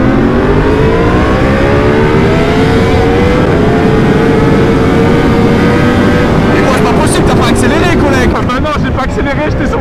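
A Honda CBR 600 RR motorcycle accelerates hard in a roll race, a loud, close engine note rising steadily in pitch for several seconds before easing, with people talking underneath.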